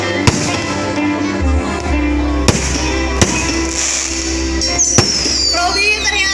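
New Year fireworks over Purbalingga regency in 2019, with sharp bangs bursting at intervals over a steady crowd and street din, one rising whistle near the end, loud and close-by.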